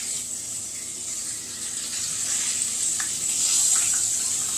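Steady sizzling hiss of food frying in a pan, continuous and moderately loud, with a few faint clinks near the end.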